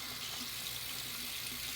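Water runs steadily from a tap, washing paint out during a splatter-paint project on antique furniture, a constant soft hiss with no breaks.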